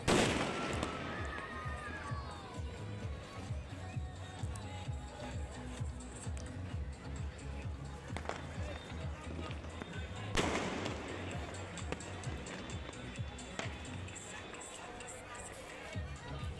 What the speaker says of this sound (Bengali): আতসবাজি কিন্তু ফুটছে মাঝে মাঝে